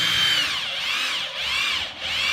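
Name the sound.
power drill drilling a bolt hole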